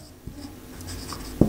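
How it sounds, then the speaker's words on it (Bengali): A red pen writes briefly on a surface during an English lesson, giving a few soft scratchy strokes and light taps, with one sharper tap near the end. "আমরা এখানে লিখতে পারি আমরা রেড পেন দিয়ে এটা আমরা"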